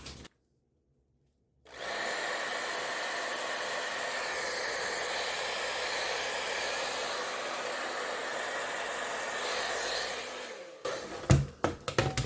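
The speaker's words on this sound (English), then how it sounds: "I'm going to try to use my blow dryer to just go in the center instead of blowing with my mouth." A handheld blow dryer runs continuously at close range, a steady, loud whooshing roar of air that starts abruptly after a brief silence and cuts off near the end, followed by a few knocks and bumps.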